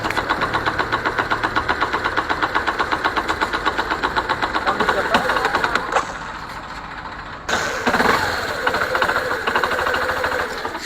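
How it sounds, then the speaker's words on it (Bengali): A Yamaha Saluto 110 motorcycle engine idles close by with a rapid, regular knocking clatter, suspected from a damaged connecting rod, ticking steadily before the tone shifts briefly and the knock resumes. "বাইকটা কিন্তু খটখট খটখট করে সাউন্ড করতেছে"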